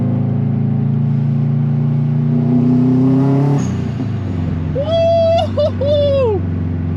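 A drift car's engine revs up, climbing in pitch before dropping off, then a few short, sharp blips follow, loud and close from inside the car.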